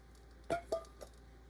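A few soft clinks and thuds as sausage drops into a metal pot, three brief hits close together over a quiet background.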